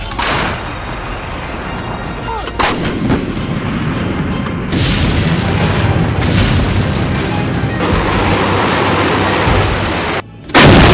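French CAESAR self-propelled artillery gun firing shells on a battlefield, heavy booming blasts with rolling, noisy rumble sustained throughout, loud and dense, ending in a brief dropout and a final sharp burst.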